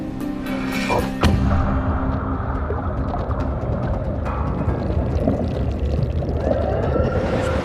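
A $450,000 ROV is put into the sea from a boat over a shipwreck: a heavy thud and splash near the start, followed by a continuous loud rumble of water and vessel noise.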